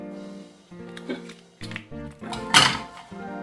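A pan is picked up, carried and set down on a stovetop in a home kitchen, giving clattering metal knocks and a sharp scraping clank, close and moderately loud with some faint background murmur.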